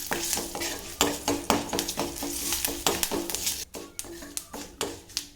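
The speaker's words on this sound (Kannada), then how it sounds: "ಸ್ವಲ್ಪ ಗೋಡಂಬಿ ಹಾಕಿ ಒಂದು 2 ರಿಂದ 3 ನಿಮಿಷ ತನಕ ಚೆನ್ನಾಗಿ ಫ್ರೈ ಮಾಡ್ಕೊಳ್ತೇನೆ." Urad dal, mustard seeds, curry leaves and cashews fry in oil in a pan, a steady sizzle broken by frequent sharp taps and scrapes of a stirring spoon, close and lively.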